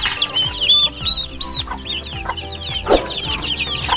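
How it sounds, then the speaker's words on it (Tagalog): Chickens and turkeys cluck and chirp close by in repeated short calls on a backyard farm, with peeping chicks among them and no talking. "Ito yung mga sisiw natin"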